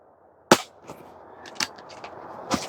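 A Hatsan Jet 2 PCP air pistol fires several sharp, snappy shots, some with faint pellet impacts or clicks between them, spaced unevenly and heard close.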